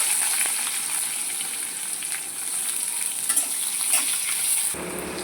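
Onion frying in hot oil with bay leaf, cumin and dried red chili, a dense steady sizzle close up that holds throughout and drops abruptly near the end.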